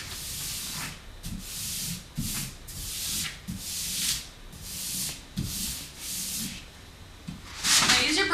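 Vinyl wall lettering being smoothed flat against a wall with a tool, repeated soft rubbing swipes in an uneven rhythm, close and fairly quiet, with a louder scrape near the end.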